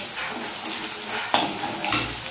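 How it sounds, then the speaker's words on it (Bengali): Potatoes frying in oil in a pan, a steady close sizzle throughout with a few clinks of a utensil against the pan. "আলুটা ভাজা এখন হচ্ছে।"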